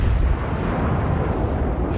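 Battleship guns of the North Carolina firing in World of Warships, a heavy, sustained booming roar that fills the moment, loud and close with no talk.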